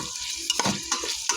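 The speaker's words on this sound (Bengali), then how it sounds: "এখন এগুলা পেঁয়াজের সাথে আমি সুন্দর করে ভেজে নিব।" Onions fry and are stirred in a rice cooker with bay leaf, cardamom, cloves and cinnamon for tehari, a close, loud sizzle broken by several sharp scraping and clinking strokes.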